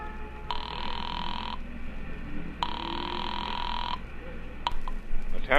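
An old-style telephone rings at the other end after a number is dialed from a nickel pay phone in a radio drama, two long buzzing rings with a pause between them, followed by a click as the line is picked up.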